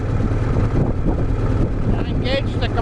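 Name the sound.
pony engine spinning up Cat D315 diesel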